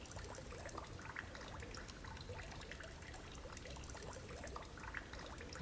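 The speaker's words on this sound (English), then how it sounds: "so that water that you've just heard has now gone from my left ear" Water trickles and splashes continuously in a dark video game, a soft, steady dribbling stream with scattered droplets, faint and unbroken throughout with no voices.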